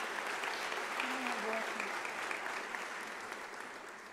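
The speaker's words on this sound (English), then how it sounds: "Can we give them a round of applause?" An audience at a university academic-year opening ceremony claps in a sustained, dense round of applause at steady volume, easing slightly toward the end, with a voice briefly audible underneath.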